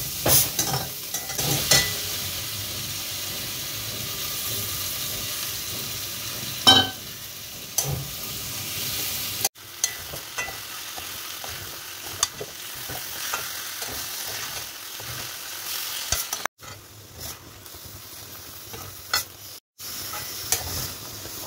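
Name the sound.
sizzling stir-fry of chilli fish or chilli chicken in a pan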